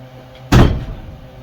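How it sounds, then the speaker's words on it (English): A back door shut firmly in a garage workshop, one solid thud with a brief rattle that decays quickly, heard alone. "I think I can shut the back door now."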